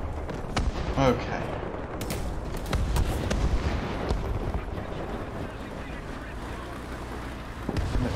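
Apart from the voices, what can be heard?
artillery fire in the video game War Thunder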